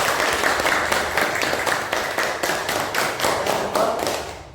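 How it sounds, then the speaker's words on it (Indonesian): Classroom pupils clapping together for classmates after a group discussion, a steady dense patter of hands held at even loudness throughout. "Tepuk tangan untuk semua."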